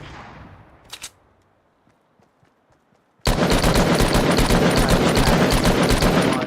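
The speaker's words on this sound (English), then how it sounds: "I hear the shooting down there." Gunfire in a battle royale shooter game: a couple of faint distant shots and scattered pops, then a sudden loud, sustained burst of rapid automatic fire close by that continues to the end.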